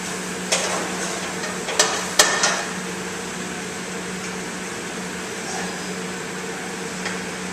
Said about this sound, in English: Now, I added my onion first, right? I'm gonna go ahead and add my garlic.